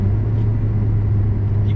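A steady, deep engine rumble with a strong low hum from a Maserati GranTurismo's naturally aspirated V8, idling or cruising, constant throughout.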